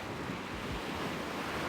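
Waves washing on the seashore at Mystic Beach, a continuous broad rush of surf mixed with wind buffeting the microphone, steady and fairly close, with no voices.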